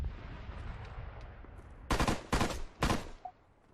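Gunfire in Arma 3 from a rooftop position: after a quiet stretch, three sharp, loud bursts of automatic fire ring out close together, each cracking briefly before fading.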